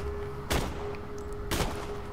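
Razor sniper rifle with a holographic scope in the video game Borderlands 2, fired twice about a second apart; each single shot is a sharp, loud crack with a short decaying tail over a quiet background hum.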